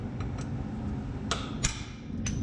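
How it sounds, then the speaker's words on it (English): Sharp metallic hammer strikes on a Ford Transit van's drive shaft part, a few separate clanks spaced about a second apart over steady low workshop rumble. "with the hit of the hammer, this should break"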